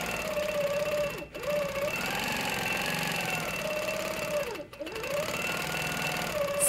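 A longarm quilting machine stitches a spiral in variegated thread, giving a steady, fast mechanical whir that sweeps up and down in pitch as the head moves, with two short pauses where the motor dips.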